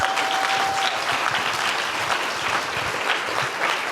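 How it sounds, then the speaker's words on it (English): An audience at a TechTO tech talk about retail returns bursts into steady, dense applause that holds at a constant level from start to finish, with no voices on top. "Can I get a round of applause?"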